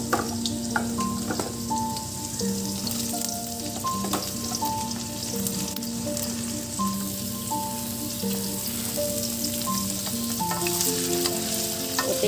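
Small whole potatoes and onions fry in mustard oil with cumin and kalonji seeds for a home-style mutton curry. A continuous, busy sizzle with crackling pops runs throughout, over faint sustained tonal notes.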